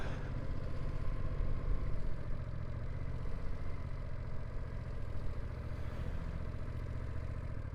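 A 2025 Ducati Multistrada V2S motorcycle engine pulls in second gear with a steady, low rumbling drone and some wind noise, heard from the rider's position, fairly quiet and continuous.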